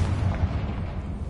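Confringo blasting spell exploding in the Hogwarts Legacy video game, a short booming blast with deep rumbling low end that stays steady and dense through the brief moment, with no talking.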